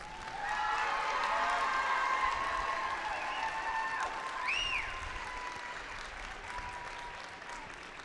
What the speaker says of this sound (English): So please, once again, give him a quick round of applause.